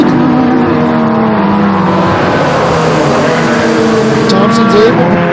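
Pure stock race cars at Flamboro Speedway roar side by side in a loud, close, sustained engine drone with shifting pitch as they battle for the lead, and a commentator talks over them.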